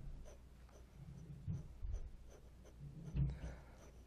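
Graphite pencil shading on paper with a gentle, light touch, a faint soft scratching of short strokes that comes and goes quietly, heard close up.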